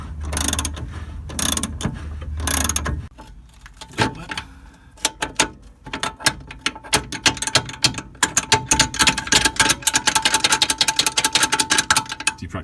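Ratcheting wrench work on the big upper wishbone bolt of a Mazda MX-5 during a coilover swap, with rapid metallic ratchet clicks building into a dense, continuous clatter near the end, close and without talk.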